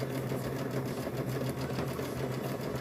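A sewing machine runs steadily through a seam on a fabric bowl cover, a close, even, rapid motor whir and needle rattle heard on its own for a few seconds.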